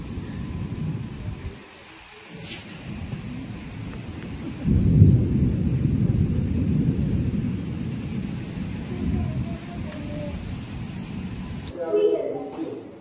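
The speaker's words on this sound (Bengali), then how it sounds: "ছাদে বসে মেঘের গর্জন, বিদ্যুতের ঝলকানি আর ঝোড়ো ঠান্ডা হাওয়া" Thunder rumbling over a rooftop in Ghatsila during a gusty evening rainstorm: deep, rolling low booms that swell and fade over steady rain noise, with one loud rumble building midway.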